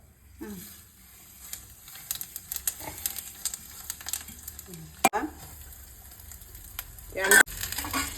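Cumin, fennel seeds and black cumin go into hot oil for an old-style green mango dish. A soft, quiet sizzle runs under scattered utensil clicks and knocks, with brief bits of voices.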